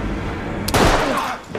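A single sharp gunshot rings out in an episode of The Last of Us, a sudden loud crack followed by a short decaying echo over a low background.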